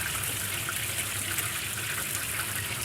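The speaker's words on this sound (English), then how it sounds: "when the fish starts bubbling quite a bit, it gives an indication that they're nearly ready" Fish frying in a pan of hot oil, giving a steady, dense sizzling hiss that stays even and fairly close throughout, with no voices.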